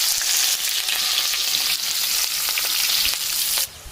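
Onion and chili frying in hot mustard oil in a wok, a loud dense sizzle with repeated scraping stirs in an uneven rhythm, close by, ending abruptly as the frying sound drops away.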